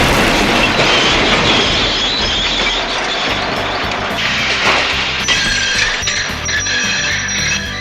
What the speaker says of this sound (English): Donald and Douglas, puffing hard, managed to haul Thomas back to the yard.